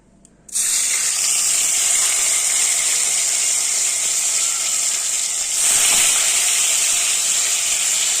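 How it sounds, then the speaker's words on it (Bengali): Paneer frying in white oil in a pan gives a loud, steady hiss that starts abruptly and swells slightly toward the end, with no talking. "বন্ধুরা চলো পনিরটা ভেজে নিই"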